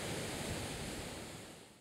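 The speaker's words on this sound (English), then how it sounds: "the northern coastline is dominated by rugged but equally beautiful cliffs that huge waves crash into" Surf crashing against rugged cliffs on Barbados' north coast, a steady broad wash of breaking waves that holds constant and then slowly fades at the end, with no voices.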